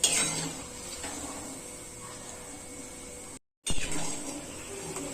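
Shankarpali frying in oil in a pan, stirred continuously, giving a steady low bubbling hiss with light clinks of a utensil against the pan, briefly cut to silence partway through.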